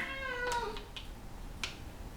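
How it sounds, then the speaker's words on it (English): A pet cat meows close by in a home craft space, one drawn-out rising and falling meow followed by a couple of short, sharper squeaks, with no talking. "same old nightmare cat"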